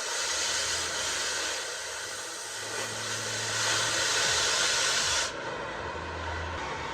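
A torch heats the welds on a trailer equalizer bracket, giving a loud, steady broadband roaring hiss close by that cuts off sharply near the end, leaving quieter low rumble.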